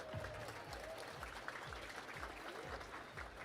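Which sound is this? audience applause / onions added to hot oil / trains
audience applause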